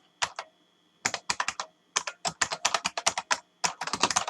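Code being typed on a computer keyboard while building a PHP login form: bursts of quick, crisp keystrokes in short runs separated by brief pauses, close and clear with no talking.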